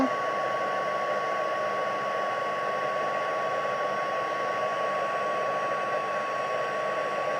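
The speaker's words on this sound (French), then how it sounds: "mon pistolet chauffe" A heat gun runs steadily for embossing powder on handmade card backgrounds, giving a loud, continuous blowing roar with a faint high whine, with no talking throughout.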